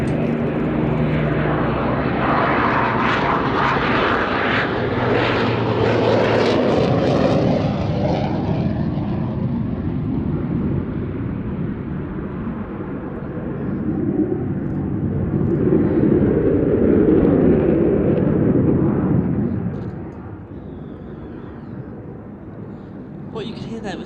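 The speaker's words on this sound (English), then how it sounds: "What you could hear there was so special is those beautiful engines of the Lancaster, and then it completely overtaken by the roar of the Typhoon." Avro Lancaster piston engines drone at an air festival at Ragley Hall, then a Eurofighter Typhoon's jet roar overtakes them. The sound swells to a loud, rushing peak before fading away.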